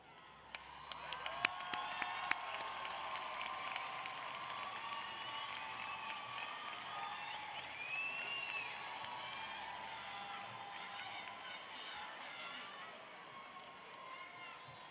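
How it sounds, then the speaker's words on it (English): A crowd at a school district graduation ceremony applauds and cheers in a large hall, a continuous, fairly faint roar of clapping and voices that lasts throughout. "please stand for applause"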